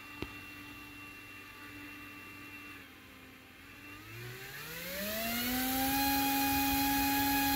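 A small 1104 brushless motor whines steadily, its pitch rising smoothly partway through to half throttle and then holding at a higher, louder hum.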